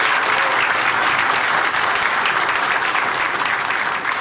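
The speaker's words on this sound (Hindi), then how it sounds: "एक बारी तालियां बजा दीजिए आप" Audience applause at a live comedy show, dense sustained clapping from a large crowd that stays loud and steady for several seconds without a break.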